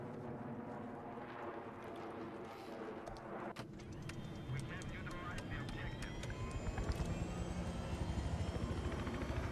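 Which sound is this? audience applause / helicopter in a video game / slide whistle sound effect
helicopter in a video game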